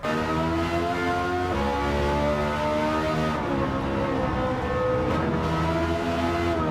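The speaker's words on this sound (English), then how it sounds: "it has one of the best sounding engine notes in Gran Turismo 7" Ferrari F430 in Gran Turismo 7, its engine note held loud and steady throughout with rich harmonic layers, rising and shifting in pitch as it revs, no talking over it.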